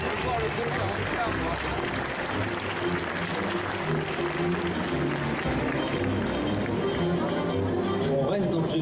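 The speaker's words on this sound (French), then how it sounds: "on peut l'applaudir très très fort s'il vous plaît" Audience at a Saturday cosplay costume contest applauds a contestant, dense clapping sustained throughout with crowd noise and voices mixed in, steady and fairly loud.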